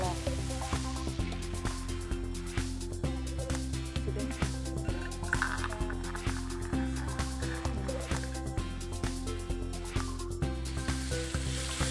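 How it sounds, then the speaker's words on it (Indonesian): Ground spice paste sautés in a pan over a stove, a steady close sizzle with light popping and crackle throughout, while people talk over it. "Ditumis sampai agak wangi ya"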